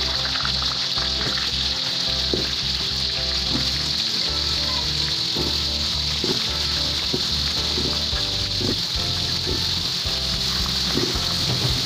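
Hog plum pieces fry in a large wok of hot oil, a continuous bubbling sizzle with irregular pops and stirring scrapes, steady and close throughout without speech.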